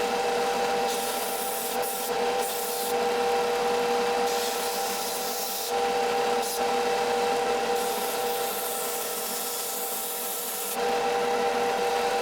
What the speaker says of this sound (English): I have to sand the tapers from the tools